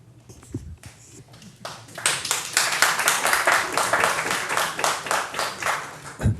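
Applause from the audience at an Ann Arbor city council public hearing, a swelling burst of many hands clapping that starts sparse and builds into steady, dense clapping lasting several seconds.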